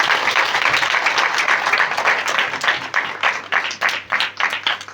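A church congregation at a Christmas meeting claps together in praise, loud rhythmic hand clapping from many people that fills the hall and stays strong throughout, with no voices over it.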